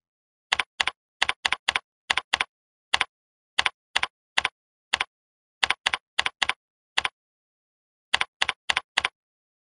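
Keys on a computer keyboard tapped in short bursts of quick, crisp clicks with brief pauses between groups, close and clear with no talking, while text is entered in Word 2010.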